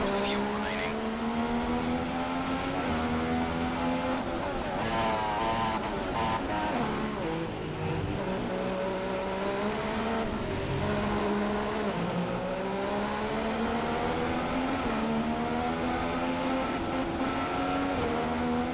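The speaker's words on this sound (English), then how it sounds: "A little bit of a throttle blip there." Haas F1 car engine in F1 2016 during a Chinese Grand Prix race, a steady high-pitched whine with shifting harmonics and a throttle blip, loud and continuous with a faint voice over it.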